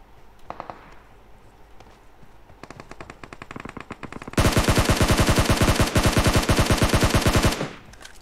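Video game machine gun spraying: scattered shots early, then a loud rapid unbroken burst of automatic fire lasting about three seconds before cutting off.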